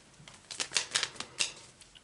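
Tarot cards drawn one by one from a deck during a spring tarot reading, a string of short, crisp papery snaps and flicks in an uneven rhythm, close and fairly quiet, with no talking.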